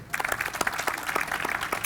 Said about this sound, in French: je vous demande d'applaudir très fort pour Aïcha Doucouré, pour Célia D'Almeida